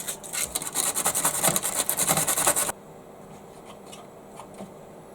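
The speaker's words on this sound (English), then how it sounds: "When you've got an important joint, it's always worth slightly ruffling things up to give the glue something to stick to" Rapid rough rubbing strokes, like sanding or rasping, scuffing a surface ahead of gluing a joint on a model truck conversion, a quick burst of about a dozen scrapes followed by quiet.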